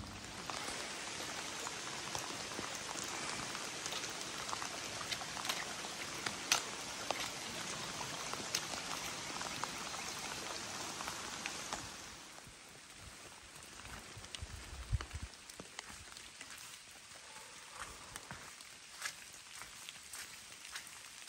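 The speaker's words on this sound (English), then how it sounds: "you can hear the rain" Rain falls along the Appalachian Trail, a steady patter of drops on leaves and ground that is dense at first and then thins to a lighter, scattered dripping halfway through.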